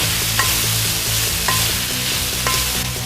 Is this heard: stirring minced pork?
yes